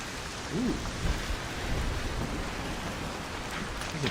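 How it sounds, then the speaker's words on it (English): A heavy video game thunderstorm in an ARC space port scene, with dense continuous rain and low rumbles of thunder rolling under the downpour, no voices. "That's a big storm."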